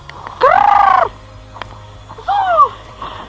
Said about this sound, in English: Sound like turkeys.